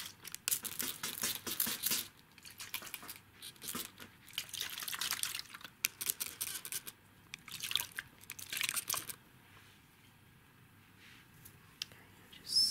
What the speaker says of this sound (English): Just put my hand over while I spray.